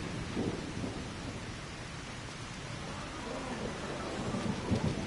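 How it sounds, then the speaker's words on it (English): Thunderstorm with rain in the video game Trails Beyond the Horizon, a steady hiss of heavy rainfall with low rolling thunder rumbles beneath, continuous and fairly quiet throughout. "Or maybe it's just a thunderstorm."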